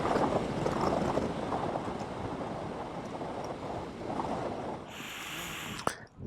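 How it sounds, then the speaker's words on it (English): Ocean waves wash in at Portrush Beach on a cold day, a steady broadband roar of surf and wind filling the scene, with a sharp knock near the end. "This is Portrush Beach."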